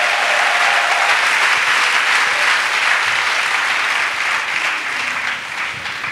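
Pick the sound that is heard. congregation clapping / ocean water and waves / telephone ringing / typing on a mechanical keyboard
congregation clapping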